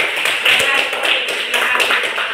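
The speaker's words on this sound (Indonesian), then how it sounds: "kasih tepuk tangan semuanya" Classroom group of students clapping their hands together in applause, a dense, steady patter of many claps close by for a couple of seconds with no talking.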